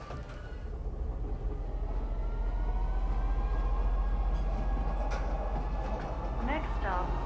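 A train in the Star Citizen game rumbles steadily with a deep, continuous low drone and faint rolling rattle, building slightly then easing, with a few brief higher tonal chirps late on.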